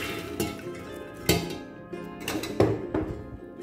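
Soaked chickpeas go into a pressure cooker, heard as a few close metallic clinks and thunks of a vessel and utensil spread over a few seconds, with no voices.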